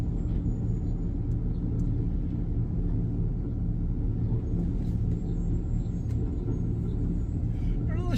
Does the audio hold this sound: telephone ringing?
no